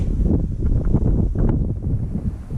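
Gusty wind buffets the microphone at an airfield, a close, low, rumbling roar with uneven surges and no talking.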